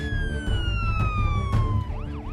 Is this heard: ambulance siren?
yes